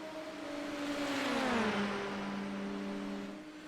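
Formula racing cars in a racing video game at the Spa circuit, McLarens running nose to tail, with a loud high-pitched engine whine that rises, drops as a gear shifts, then holds steady before fading slightly.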